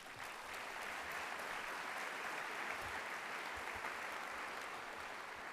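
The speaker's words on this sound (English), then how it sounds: "So that deserves a big round of applause" A large convocation audience at Cal Poly gives a steady, even round of applause, heard at a distance as a continuous wash of many hands with no distinct individual claps.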